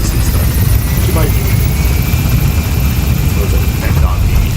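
A helicopter in Metal Gear Solid 5: The Phantom Pain gains altitude with its wheels down, a loud, constant rotor drone and low engine rumble filling the whole stretch.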